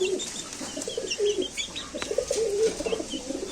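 Pigeons coo softly and repeatedly close by near their cage, low rolling calls overlapping, with faint chirps above them.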